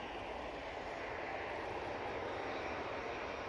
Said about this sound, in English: Swiss has just arrived using their A220